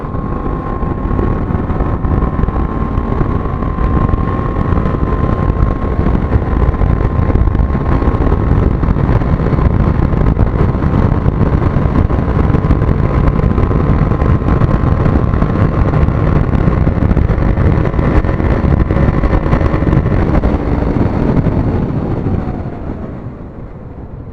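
A BMW 310R motorcycle running at high speed on a highway, its engine droning steadily and loud for over twenty seconds with heavy wind rush, easing off near the end; no talk.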